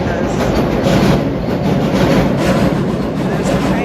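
Train rolling along railroad tracks beside a street, a steady loud rumble with rattling wheel noise throughout, close by and continuous.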